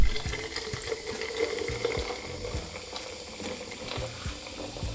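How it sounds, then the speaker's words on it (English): Soda water is poured over ice into a muddled raspberry cocktail, a close fizzing, bubbling pour with small clinks, steady for several seconds without talking. "and finally with the soda water."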